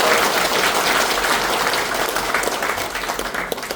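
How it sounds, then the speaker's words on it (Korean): Audience applause breaks out at a public policy forum in a Daejeon city council setting, a dense, sustained clapping that stays loud and even before tapering slightly, with no talking over it. "정말 큰 응원의 박수 한번 주셔야 될 것 같아요."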